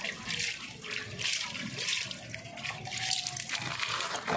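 Running water splashes steadily as a 3/4-size PVC tee fitting is rinsed under a tap for a backyard tilapia-pond venturi setup, a continuous close hiss with faint clatter.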